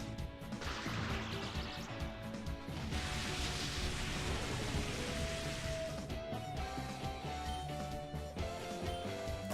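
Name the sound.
rain weather in the video game Pokemon XD: Gale of Darkness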